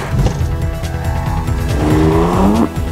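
A car drifts and spins on the Ladoux test track, tires squealing in long rising howls over revving engine noise, ending in a sharp final screech.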